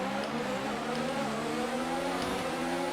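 Formula 1 cars in the F1 2019 video game drone steadily at the race start at Paul Ricard, French Grand Prix, with layered harmonic tones, a busy motor-racing roar that holds level without any voices.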